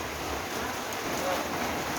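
Continuous rain falling, a dense steady hiss of drops on surfaces with no clear speech.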